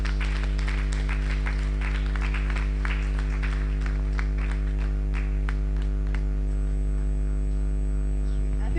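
Clapping from a forum audience after a trade-relations talk, a scattered wash of hands that thins out toward the end, heard over a loud, steady electrical hum from the sound system.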